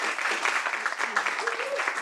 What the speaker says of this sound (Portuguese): Uma salva de palmas, Andréa, gente, por favor.